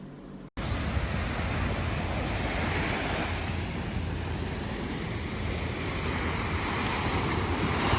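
Ocean waves by the sea roll in a steady, loud wash of surf with wind buffeting the microphone, continuous and close after a brief quiet start, with no voices.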